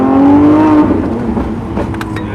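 A 2020 Lamborghini Aventador SVJ Roadster accelerating hard, its engine loud and close with a rising howl that shifts pitch partway through and keeps pulling strongly.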